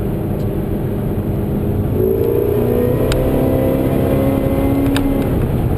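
A Whipple supercharged Holden VE Maloo ute with a Turbo 400 transmission cruises at about 3,000 rpm on a road test, its engine a steady loud drone inside the cab with a rising supercharger whine.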